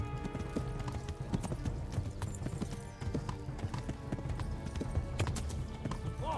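A horse gallops in the medieval game Kingdom Come: Deliverance, rapid rhythmic hoofbeats clattering steadily and close, with a brief whinny.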